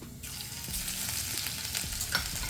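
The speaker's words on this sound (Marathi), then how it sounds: "आता आपण यामध्ये तूप टाकलेलं आहे, तर त्यामध्ये आता आपण अर्धा चमचा जिरे टाकणार आहे, थोडीशी आलं लसूणची पेस्ट टाकणार आहे" Cumin seeds and ginger-garlic paste fry in hot ghee for dhaba-style dal palak. A dense, steady sizzle sounds close up, with a faint scrape of stirring and occasional small pops, and no voices.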